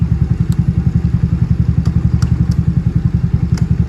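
An older Yamaha Nouvo scooter engine runs at a steady idle close up, with a loud, rapid, even thumping pulse and faint clatter throughout.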